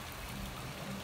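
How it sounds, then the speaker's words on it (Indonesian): Heavy rain falling at an outdoor village location in Indonesia, a steady, dense hiss of even loudness with no voices. "kondisi sekarang sedang hujan deras di lokasi syuting KJT Official"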